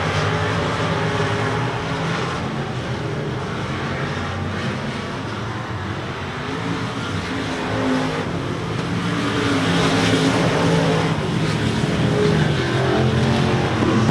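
Race cars lap RPM Speedway, a continuous loud roar of several engines droning and rising as the pack passes, with no voices over it.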